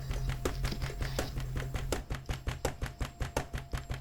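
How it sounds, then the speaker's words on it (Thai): Rhythmic knife chops on a cutting board, cutting a salad roll into bite-size pieces, a rapid series of sharp, evenly spaced cuts that grow more distinct toward the end, over a low hum. "แล้วก็หั่นต่อไปแบบพอดีคำครับ"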